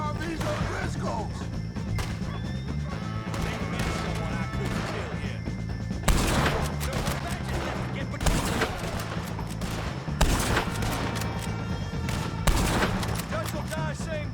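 Gunfire in Red Dead Redemption 2 during a shootout with O'Driscoll gang members: repeated loud shots, several heavy bursts standing out over a dense, continuous battle din with voices shouting throughout.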